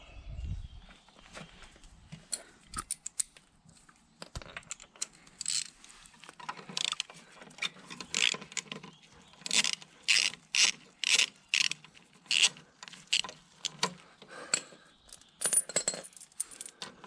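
A ratchet wrench clicks in quick bursts while loosening 10mm bolts on a 1998 GSXR 750 SRAD motorcycle, with a few scattered taps early on and then a run of sharp, close, rhythmic ratcheting strokes; no talking.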